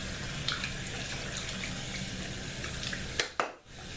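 Tap water streams steadily while homemade body wash is rinsed off, a continuous close rush with small splashes, then a couple of sharp knocks and the flow cutting off near the end.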